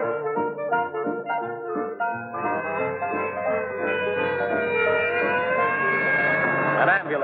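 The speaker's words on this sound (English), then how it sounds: "An ambulance heading for General Hospital and not a minute to lose." An ambulance siren wails on the way to a hospital in an old television drama, its rising, sustained tone swelling in over music and someone speaking.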